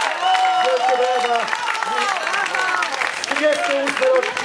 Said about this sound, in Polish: Wielkie brawa dla pana Józefa.